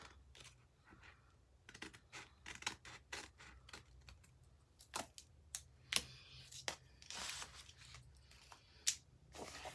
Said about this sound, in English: So I'm just going to use my microtip scissors